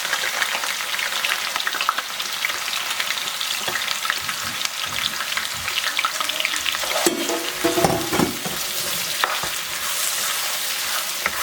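Chopped onion and grated garlic sizzle and fry steadily in a hot pan for a Guinean sauce, with a constant loud crackle and occasional stirring scrapes and no voices.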